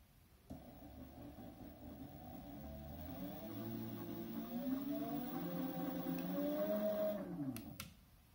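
Verreal electric skateboard motor under a lightly feathered throttle, a faint tonal whine with stacked harmonics that starts abruptly, rises and wavers in pitch for several seconds, then drops and stops.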